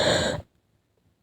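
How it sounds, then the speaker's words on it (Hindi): A single burst of coughing, close and fairly loud, stops abruptly into silence before another cough starts right at the end. "मुझे खांसी है तो है।"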